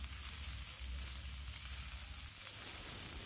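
Cabbage and capsicum are stir-fried for garlic prawn noodles, making a dense, steady sizzle with low rumbling from the pan and faint stirring underneath.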